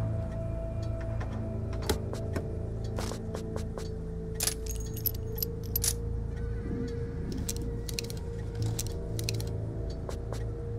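Keys jangle in the Alan Wake video game, light metallic clinks and short jingles scattered over a steady low ambient hum, fairly quiet and close, with no talking.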